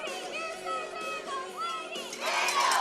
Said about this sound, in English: Got a cheering section over there for the old Lady Vandals.